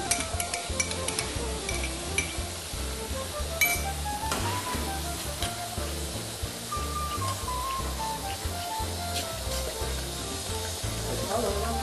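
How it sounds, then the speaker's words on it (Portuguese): Calabresa sausage frying in a little oil in a pan, a continuous steady sizzle with stirring and occasional clinks of utensil against cookware, close and fairly loud throughout. "Refogue a calabresa com um pouquinho de óleo"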